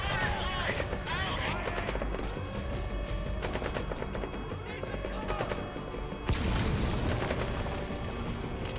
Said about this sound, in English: They're shooting sleep grenades at me.